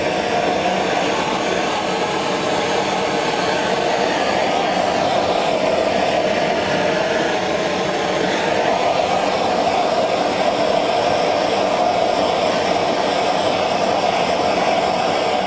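A flame torch roars steadily and loudly while being played across a painting, an unbroken breathy hiss that runs the whole time with no talking.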